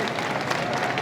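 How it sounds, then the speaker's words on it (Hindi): Crowd at an Akali-BSP alliance election rally in Nawanshahr applauding to welcome a party leader, a dense, fairly loud wash of clapping mixed with crowd noise and voices. "उनका भी तालियों के साथ स्वागत करने का काम करें।"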